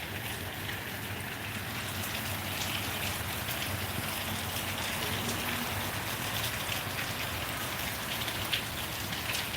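Steady rain patters on a surface, a constant even hiss of falling drops with no voices.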